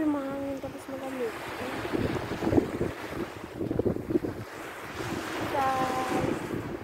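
Strong wind gusting across the microphone outdoors near the sea, with brief tonal hums at the start and end.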